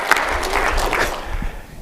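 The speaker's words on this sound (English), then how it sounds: "Give yourself a round of applause." A burst of audience applause at a talk, dense clapping that peaks early and gradually fades toward the end.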